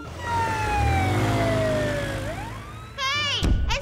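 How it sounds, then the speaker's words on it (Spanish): A cartoon police siren wails with a long falling tone, then breaks into rapid warbling yelps near the end, loud and close over a low rumble. "¡Mi sirena!"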